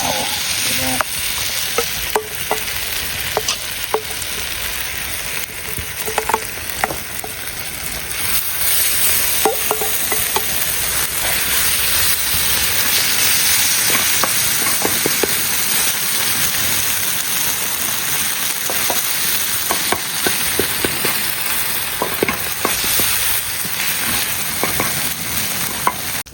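Laverbread patties sear in a hot pan with a loud, steady sizzle and occasional scraping and stirring clatter, close and unbroken, with no voices.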